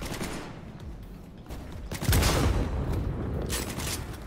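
Gunfire in Cyberpunk 2077, bursts of rapid shots and booms swelling into a dense, loud volley that continues to the end.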